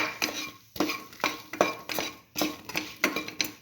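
A utensil repeatedly clanks and scrapes against the pan while eggplant stir fry is mixed with salt, roughly a dozen sharp close hits in an uneven, brisk rhythm.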